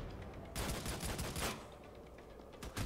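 Main gun firing in Army of Two, a rapid roaring burst of heavy shots lasting about a second, followed by fainter scattered blasts.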